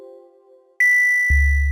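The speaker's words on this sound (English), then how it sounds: "we're hearing a lot of what seem to be random notes playing in the background" Synth notes from Sonic Pi code play in a randomised sequence: a low sustained tone gives way to a bright pinging high note with scattered flickering tones, then a heavy low rumble enters, all loud with no talk.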